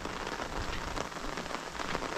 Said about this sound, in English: It's been raining since I got up at 3:30 this morning.